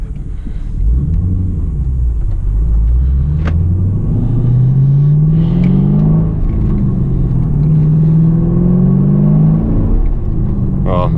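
2015 Chevrolet Camaro SS 1LE V8 engine accelerating hard, heard from inside the cabin as a loud, rising roar that climbs in pitch through repeated pulls and gear changes, sustained and close throughout.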